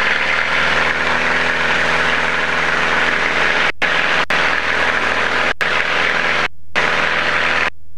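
Small airplane taking off from YWOW, its propeller engine roaring steadily and loud close by as it accelerates and climbs, with a few abrupt brief dropouts in the sound.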